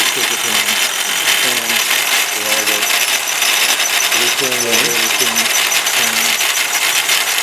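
A large-scale model combine harvester runs at a farm toy show with its belts, chains and moving parts working. Loud continuous mechanical whirring and rattling fill the scene, with voices faintly mixed in.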